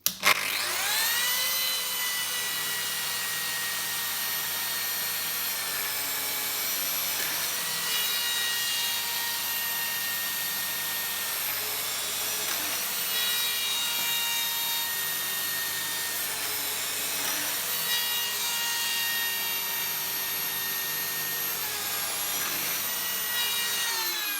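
A Lamello biscuit joiner plunges into wood to cut four slots, each cut a high whining motor spin with a rasping bite, the bursts following one another evenly and close by with no talk.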